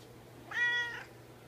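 A Ragdoll cat gives one clear, drawn-out meow close by, about half a second long, in an otherwise quiet room.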